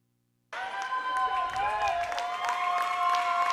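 Crowd at a girls high school basketball final applauding and cheering after a timeout, starting abruptly and holding as a steady distant roar with a few whistle-like tones, under a broadcast backdrop.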